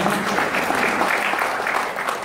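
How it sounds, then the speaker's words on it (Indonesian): A large audience breaks into loud, continuous applause during a marketing plan presentation, a thick and even roar of clapping throughout. "Tepuk tangan."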